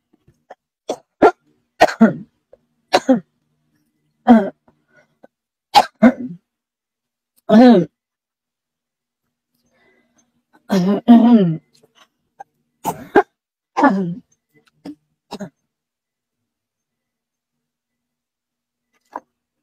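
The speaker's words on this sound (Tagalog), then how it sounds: "inuubo pa rin po ako" A person coughs in short, sharp bursts scattered across the stretch, with quiet gaps in between and a few brief vocal sounds. The coughs are close and fairly loud.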